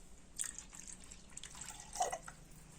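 A glass of water is poured into a pot of curd, giving soft splashing and dripping sounds, faint and close, with a couple of brighter splashes partway through and no speech.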